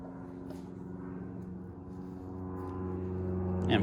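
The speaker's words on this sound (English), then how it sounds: "And of course we got a low flying airplane." A low-flying airplane drones overhead outdoors during boat trim work, a steady low engine hum that slowly grows louder through the clip.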